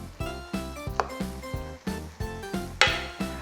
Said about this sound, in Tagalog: Haluin ko lang